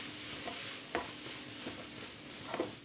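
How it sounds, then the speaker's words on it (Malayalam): Chopped tomatoes sautéing in a pan for a Kerala egg curry give a steady soft sizzle, with a few light scrapes of stirring at intervals; no voices. "ഈ തക്കാളി ഒന്ന് നല്ലതായിട്ട് വഴറ്റിയെടുക്കണം."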